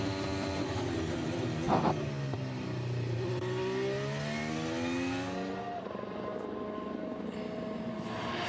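A Formula 1 car driven by Verstappen sweeps past at the Bahrain circuit during practice, its high-pitched engine wail rising then falling in a clear Doppler pass, loud and close, with no talk over it.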